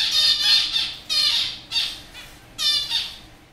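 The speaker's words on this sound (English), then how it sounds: "female zebra finches provide plenty of audio examples for Dan's research." Female zebra finches in a laboratory aviary give four loud, nasal, buzzy calls, each lasting about half a second and separated by short gaps, close to the microphone with no other sounds.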